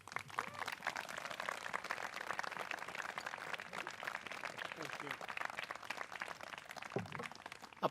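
Audience applause for New Jersey DEP Commissioner Shawn LaTourette as guest speaker at The Watershed Institute's 2022 event, a dense, steady wash of clapping from a crowd lasting several seconds with faint voices beneath.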